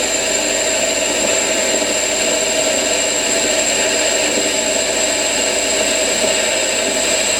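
A metal lathe at about 800 RPM roughing down a metal part, 2 mm a side coming off, a loud steady whirring drone with a constant high whine and no break throughout.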